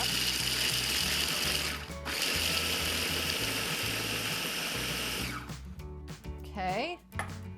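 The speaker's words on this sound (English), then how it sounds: "We're gonna put them in our food processor and just grind them up." A food processor grinds pecans for a crusted pork chop recipe: a loud, steady motor whir with a rhythmic chopping pulse, briefly pausing near two seconds, then fading out as a voice speaks toward the end.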